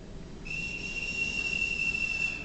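A single shrill whistle blast sounds to summon people, one sustained high tone lasting about two seconds over a faint background hum, with no speech.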